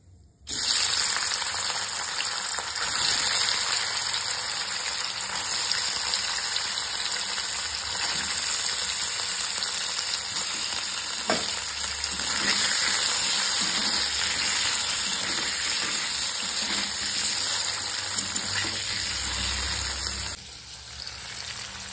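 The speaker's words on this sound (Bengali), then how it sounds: "তাই গাজর আর আলুটা একটু ফ্রাই করে নিচ্ছি" Carrot and potato pieces fry in oil in a pan, giving a loud, continuous sizzle with occasional stirring that stops abruptly near the end.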